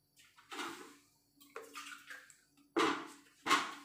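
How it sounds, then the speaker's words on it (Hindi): A glass of water poured into a cooking pot of sambar with jaggery and sambar masala: several separate close splashing pours, each a short gush of running water, with quiet gaps between them. "अभी इसमें मैं है ना एक गिलास पानी डालूंगी"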